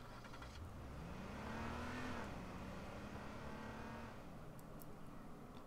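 Car in the H1Z1 video game: a faint engine drone that rises in pitch as it accelerates, holds steady, then fades away.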